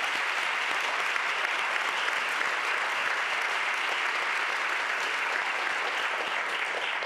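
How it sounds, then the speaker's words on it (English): An audience at a school district's State of Schools address applauds principals of STEAM schools, a continuous, even wash of many hands clapping that holds steady for several seconds with no voices breaking through. "Give them a round of applause."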